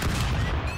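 A rapid, loud burst of game gunfire from Stick Fight, dense booming shots packed into under a second.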